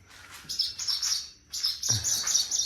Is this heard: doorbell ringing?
no